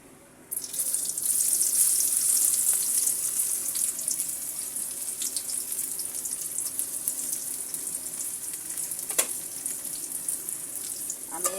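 Chopped onions drop into hot oil in a wok and set off a sudden loud, steady hiss that holds evenly for several seconds, with no voices.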